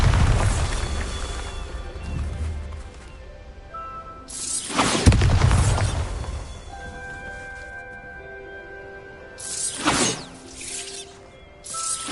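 Spell explosions from the Bombarda charm in Hogwarts Legacy, heard as a few loud booming blasts with crashing debris, separated by quieter stretches with sustained musical tones.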